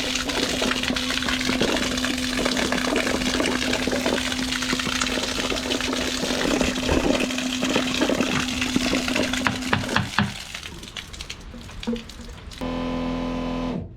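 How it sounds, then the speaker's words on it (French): Self-priming water pump running aboard a boat, drawing from a 40-litre water tank: a steady close whirring hum with rushing, splashing water for about ten seconds, then a sputtering change and a brief lighter tone near the end. "On va essayer la pompe là ici."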